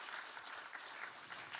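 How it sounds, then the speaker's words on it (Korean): A church congregation applauding scholarship students during a Sunday morning worship service, a steady, distant wash of clapping that is fairly faint and continuous throughout. "우리 축하와 응원의 박수 부탁드리겠습니다"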